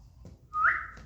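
A single short rising whistle used in horse training, clear and fairly close, after a brief lower sound, with a quiet background.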